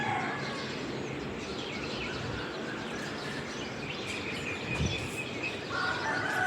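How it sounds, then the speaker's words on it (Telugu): Birds call in the open morning air, with a rooster crowing and scattered chirps over a steady outdoor hush, fairly distant and soft. "ఉదయం అంటే పక్షులు అరుస్తూ ఉంటాయి."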